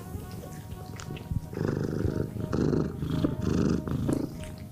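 A middle-aged spayed cat at a shelter purrs close up in a steady rhythmic rumble, each breath making a throaty swell, with no talking.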